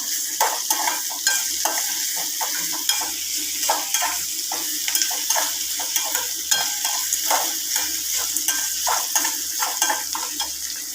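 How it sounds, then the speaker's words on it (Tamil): Onions fry in oil with ginger-garlic paste for a potato kurma, with a steady sizzle broken by repeated clinks and scrapes of a spoon stirring the pan, close and clear with no talking. "வெங்காயம் வணங்கினதுக்கப்புறம் இஞ்சி பூண்டு பேஸ்ட்டு சேர்த்துக்கலாம்"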